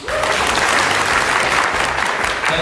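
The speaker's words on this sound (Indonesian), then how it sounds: "Berikan tepuk tangan sekali lagi." A crowd at a hosted stage event bursts into dense, steady applause that fills the whole stretch at full strength, without letting up.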